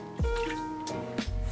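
Sake and mirin poured into a pressure cooker, a few short liquid splashes and drips into the pot, quiet and close, alone with no talk.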